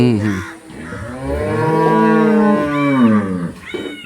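A large horned cattle bull at a livestock market lets out a loud, close, drawn-out moo with rising and falling pitch, heard alone.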